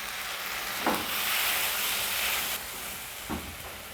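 Tomatoes sizzle and fry in a pan of deeply caramelized brown onions, a steady loud hiss with brief stirring scrapes near the start and end, no voices.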